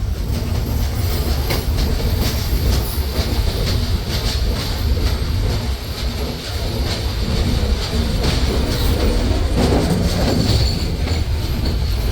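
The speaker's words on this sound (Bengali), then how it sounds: "ট্রেনটি প্রবেশ করলো যমুনা বহুমুখী সেতুতে।" Chitra Express train on the Khulna to Dhaka run entering the Jamuna Multipurpose Bridge, heard from on board as a loud, steady rumble with rolling wheel clatter and occasional squeal throughout.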